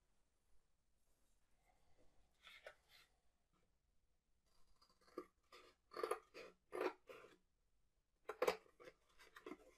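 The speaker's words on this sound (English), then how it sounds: "Take the scissors and cut the cardboard in half." Scissors snip through cardboard in a quiet room, a series of short crisp cutting crunches coming in clusters, close and fairly faint, with no voices.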